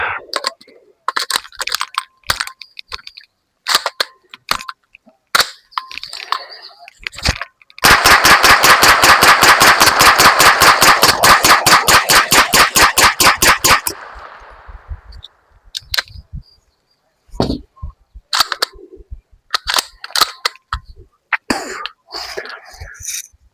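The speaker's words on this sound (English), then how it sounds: "let's run a full mag through this." An MP5 submachine gun empties a full magazine in one loud, close, continuous rapid-fire burst of about six seconds, with scattered single sharp reports before and after.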